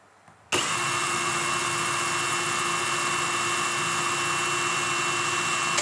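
Half-inch impact wrench running at low speed, a sudden start into a steady, loud, close-up whirring hum that holds evenly to the end.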